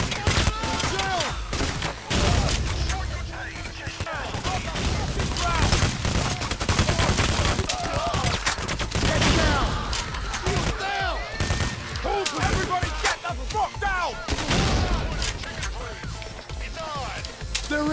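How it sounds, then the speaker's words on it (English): A grenade launcher fires amid dense gunfire in the heist shooter game Payday: The Heist, with loud sustained bursts of shots and blasts that run almost without a break. "it's going to be a grenade launcher with Payday the Heist and Payday 2"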